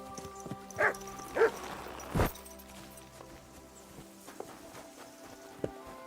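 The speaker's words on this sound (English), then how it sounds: "What is it, Mutt?" A dog barks a few times in Kingdom Come: Deliverance II, three short, fairly close yaps early on over a steady game ambience with faint footsteps, followed by quieter background sound.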